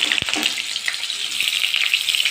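Pieces of pointed gourd drop one by one into hot oil in a pan, a sharp splash followed by a bright, steady crackling sizzle heard up close.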